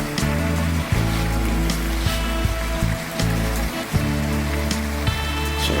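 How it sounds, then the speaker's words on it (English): Curry shrimp with bean sprouts, seasoned with black pepper, stir-frying in a hot pan, giving a steady loud sizzle and crackle that runs throughout with small bursts of spattering. "So this is my stir-fry shrimps, okay? Stir-fry shrimp."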